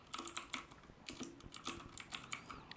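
Quick clicking keystrokes on a computer keyboard while a spreadsheet sheet is renamed, a light, uneven patter of close taps with no talking.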